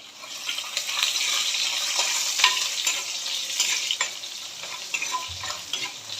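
Crushed ginger and garlic frying over a low flame in a pan, a continuous bright sizzle with intermittent stirring scrapes and taps, close and without talk.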